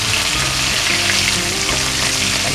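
Shrimp coated in turmeric and salt sizzles steadily in hot oil, a continuous loud frying hiss with soft crackles throughout, no voices.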